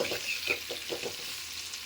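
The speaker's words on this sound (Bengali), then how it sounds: "আলুটা আমার মোটামুটি একটু ভাজা ভাজা হয়েই এসছে।" Potatoes fry in a pan with a soft, steady sizzle, broken by a few light stirring scrapes and ending in a brief sharp clink.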